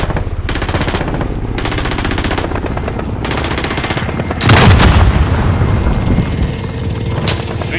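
Gunfire from the Vanguard killstreak in Call of Duty: Modern Warfare, loud rapid bursts of automatic fire separated by short pauses, with a heavier roaring volley in the middle and aircraft drone underneath.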